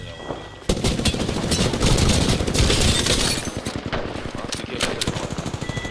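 Sustained automatic gunfire from the video game Apex Legends, loud and dense rapid bursts that kick in abruptly after a brief quieter moment and keep hammering for several seconds with overlapping shots and impacts.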